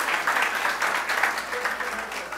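Crowd at a political party meeting in Chaguanas, Trinidad, claps in a brief, moderately loud round of applause, steady and diffuse with faint voices underneath.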